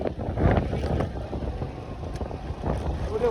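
Strong gusting wind and rain batter a moving vehicle on the road, a loud, rough roar with buffeting rumbles that swell and ease throughout.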